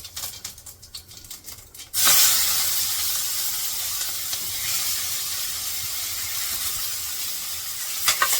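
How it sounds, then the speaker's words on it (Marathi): Mustard seeds, cumin, curry leaves and onion hit hot oil with an abrupt, loud hiss after a quieter stretch, then a steady, close sizzle continues without a break. "थोडीशी मोहरी आणि जिरं कढीपत्ता आणि कांदा संपीस टाकते"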